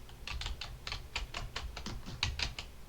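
Fingers type quickly on a computer keyboard during a typing speed test, a close, quiet run of roughly a dozen uneven key clicks with no voices.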